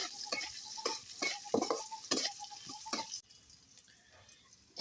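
Chilli paste being stirred with salt in a pan, a series of wet scraping strokes with soft sizzling, loud and close, then a quieter pause of gentle frying.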